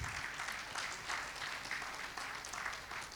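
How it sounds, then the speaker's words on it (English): An audience applauds a panel moderator at a Nairametrics forum for the MSME Finance Awards 2024: steady, fairly faint clapping spread across the room, holding an even level throughout. "Please a round of applause for him."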